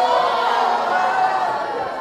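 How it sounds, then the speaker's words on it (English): A studio audience cheers and applauds in a steady, loud, dense wash of crowd noise that fades slightly toward the end. "we will allow a cheer for that because they said each other"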